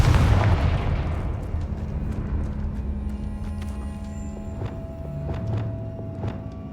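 A Confringo fire-blast spell explodes in Hogwarts Legacy, opening with a loud booming burst that decays into a rumbling tail, followed by scattered sharp thuds and cracks.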